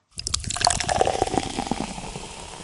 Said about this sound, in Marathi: the water is overflowing. Close the tap.